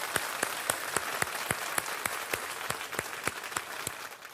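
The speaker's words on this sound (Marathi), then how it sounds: "खूप टाळ्या शिक्षकांसाठी." A studio audience on a Marathi television quiz show applauds to honour teachers, a steady, even stream of clapping with sharp regular accents, lasting the whole moment without speech.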